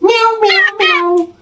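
A cat meows three times in quick succession, close and loud, each cry a drawn-out wavering tone.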